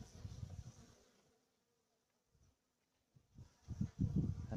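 Honeybees buzz close by at a hive in low, uneven bursts, dropping to near silence for a moment before the droning hum swells again.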